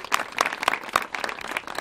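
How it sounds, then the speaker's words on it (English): Brief burst of audience applause at a news conference on senior LGBT housing in Suffolk County, moderate scattered clapping from a small crowd lasting under two seconds. "let's have a big round of applause for David Kilmick."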